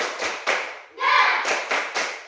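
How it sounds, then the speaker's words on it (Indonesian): A school class performs a rhythmic spirit clap together, several loud, sharp bursts of group clapping in a quick patterned beat, with a short chanted shout in the middle. "Coba kita buktikan semangatnya. Tepuk semangat."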